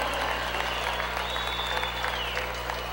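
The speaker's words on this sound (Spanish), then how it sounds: "ese aplauso que se sienta Puerto Rico." An audience at a salsa tribute concert in Puerto Rico applauds steadily, a dense wash of clapping and crowd noise that holds at even loudness throughout.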